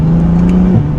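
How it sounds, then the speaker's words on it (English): A 2020 Nissan GT-R 50th Anniversary revs hard under acceleration, its steady engine drone holding loud and close before a brief dip at the shift into second gear. "So one last acceleration to second gear."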